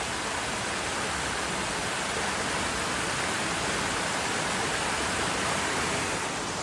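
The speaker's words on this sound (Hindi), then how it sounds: "यहाँ पे सिर्फ पानी का शोर है" Steady, loud roar of rushing water from a waterfall in a remote forest in Azad Kashmir, a dense unbroken wash of noise with no voices.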